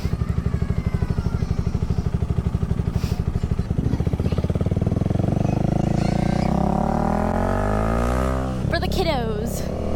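A motorcycle fitted with a new exhaust rumbles loud and close as it runs through the gears, its pulsing idle rising into a smooth drone, with a voice speaking over it.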